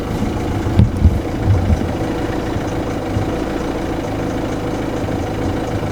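A Ford Fiesta engine idles steadily, burning off fuel built up in the cylinders, with a continuous low rumbling drone that stays constant throughout, apart from a couple of brief knocks near the start.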